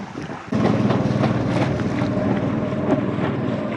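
Strong wind buffets the microphone high on a mountain, a dense continuous roar that jumps louder after a brief quieter start and keeps gusting with no voices.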